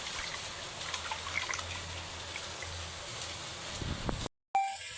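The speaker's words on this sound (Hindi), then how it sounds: "देखिए चावल धोए के बाद फिर एक अभी चढ़ाऊँ" Water trickles and splashes steadily as it is poured over freshly washed rice in a home kitchen, a continuous close liquid sound that cuts off abruptly near the end.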